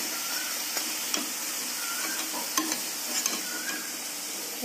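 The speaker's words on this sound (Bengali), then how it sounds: "বাকিগুলোকে আমি ভেজে নিচ্ছি।" Pieces of a ripe mango snack frying in hot oil give off a steady, dense sizzle with occasional stirring clinks, continuous and close, with no talking.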